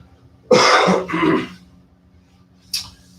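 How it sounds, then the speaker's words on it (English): Two harsh coughs in quick succession, close and loud, followed after a pause by a short sharp exhale, over a low background hum. "That cough, man."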